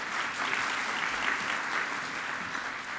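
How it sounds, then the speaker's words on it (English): A steady, full round of audience applause at an awards ceremony, with dense, even clapping that holds for the whole stretch and no voice over it. "Can we have a round of applause for them?"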